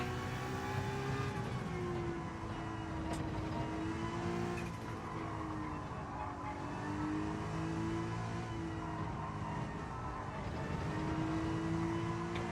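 A car in Gran Turismo 7 roars through sustained revs, pitch rising and falling as it accelerates and shifts, with brief tire squeal; steady and fairly loud, no talk over it.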